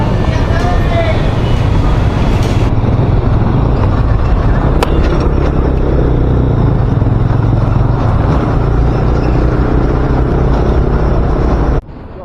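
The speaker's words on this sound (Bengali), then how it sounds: "তার জন্য যতটা সম্ভব আমাদের বাইক টেনে বেরিয়ে যেতে হবে।" A motorbike ridden at night on a road trip, heard as loud buffeting wind rumble over a steady engine drone that runs unbroken until an abrupt cut near the end.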